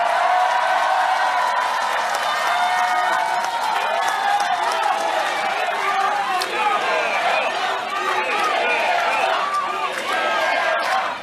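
A crowd at a political campaign rally in Pohang claps and cheers in a dense, continuous roar of applause and shouting voices, loud and unbroken to the end.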